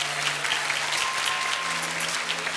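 Audience applause at a 2024 master's degree graduation ceremony in human resources management, honouring the graduating class of 24 as they return to their seats; a steady, dense wash of clapping throughout with no voices.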